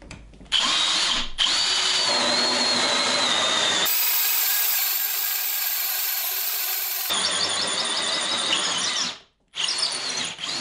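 A hole saw bores into oak wood, its steady loud whine and grinding cut running continuously for most of the span, with brief pitch changes and a short pause near the end before the drilling resumes.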